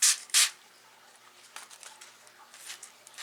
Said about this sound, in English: I got my neem oil. I'm going to go ahead and spray everything down.